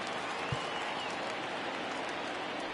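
Stadium crowd in a PS4 baseball video game roaring steadily as fans of a crowd of over 23,000 rise to their feet, a dense continuous wash of cheering with one brief thump.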